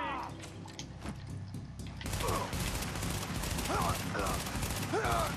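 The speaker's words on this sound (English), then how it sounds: "I'm just gonna use my SMG for this." Continuous SMG fire in Tom Clancy's The Division, sustained rapid automatic bursts over busy game ambience, louder in the second half, with a voice talking faintly underneath.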